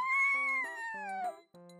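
A cat meowing, a single drawn-out, close, clear meow lasting over a second, with a short second meow after it and faint background tones underneath.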